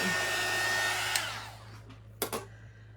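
A heat gun blows hot air over paint on a faux deer skin sign with a steady, loud rushing roar that fades out around halfway, followed by a couple of short knocks.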